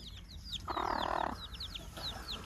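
A hen with her chicks out in the open, giving a steady low clucking in the middle of the clip while the chicks cheep in high, repeated peeps throughout, close by and with no talking.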